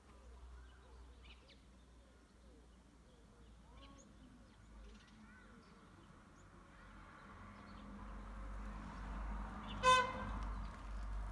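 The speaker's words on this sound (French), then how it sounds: "C'était le petit coup de klaxon" A short car horn toot sounds once, fairly close, at the end, over quiet outdoor ambience with faint birdsong and low traffic rumble.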